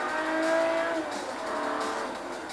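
A Ferrari 250 California in Forza Motorsport 3 on Xbox brakes hard, and its tires let out a high, sustained squeal over the engine's roar. The squeal fades as the car keeps driving, with no voices.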